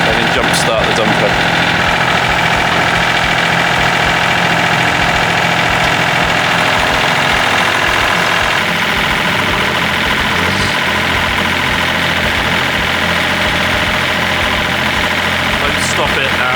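A small tractor engine idles steadily with a wood chipper attached, a continuous loud mechanical drone with a slight knock that holds throughout, close by, with no talk over it.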